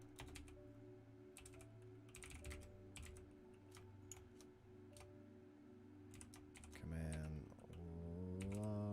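Quick bursts of clicky typing on a computer keyboard during a coding session, irregular clusters of keystrokes at low level with a steady hum beneath and some other sounds near the end.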